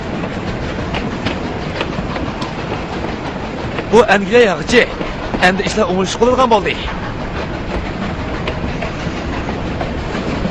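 A steam train runs on rails with a continuous clattering rumble, while someone talks over it in a dubbed comedy film.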